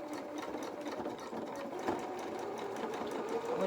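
A sewing machine runs steadily while zigzag stitching along a fabric edge of doll bloomers, a continuous close, moderate whir with no speech.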